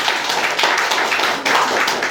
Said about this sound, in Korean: 우리 박수 축복 좀 해주세요